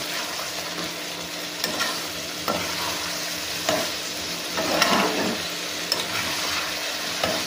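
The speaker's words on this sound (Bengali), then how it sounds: "এটা কিছুক্ষণ নাড়াচাড়া করে একটু ঢেকে দেবো" A spoon stirs bottle gourd curry in a hot pan, with a steady sizzle of frying and a few louder scraping knocks against the pan; no voices.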